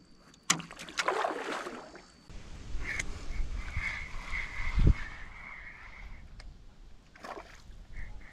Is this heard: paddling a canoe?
yes